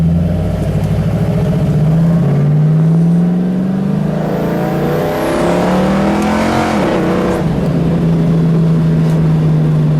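A 1972 AMC AMX Javelin with a 401 V8 accelerating hard down a straightaway, its loud engine note climbing through the gears with a brief dip at a shift, heard close and continuous throughout.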